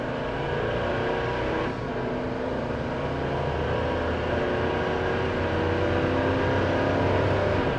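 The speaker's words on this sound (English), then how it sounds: "heavy on the accelerator" A 2011 Leader car accelerating hard on a test drive, its engine note a steady, loud, continuous drone with no talking over it.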